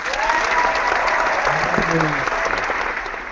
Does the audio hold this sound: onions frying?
no